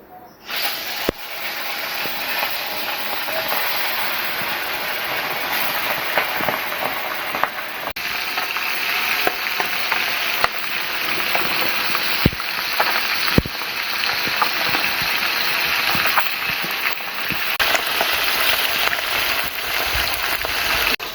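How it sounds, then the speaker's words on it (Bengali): Bhola fish frying in hot oil in a wok, a steady loud close sizzle and hiss that continues alone throughout, with occasional sharper pops and crackles. "তেল গরম হয়ে গেছে, এবার মাছগুলোকে ভেজে নেব।"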